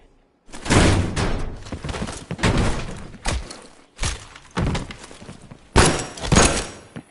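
A door opening in a video game comes through as a series of loud thuds, bangs and crashing bursts with brief gaps between them, close and heavy.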